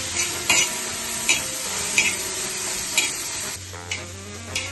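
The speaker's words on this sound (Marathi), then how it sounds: "आता यामध्ये थोडासा फाईन चॉप केलेला टोमॅटो ऍड करूयात" Finely chopped tomato frying for egg tikhari, a continuous sizzle punctuated by about half a dozen evenly spaced spatula scrapes and taps against the pan, close and clear, with no speech.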